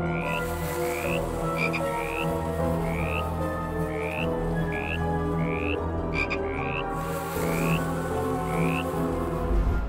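A toad croaks in a steady rhythmic series, loud and close, over a dense chorus of other frogs or toads in the wild, with no voices.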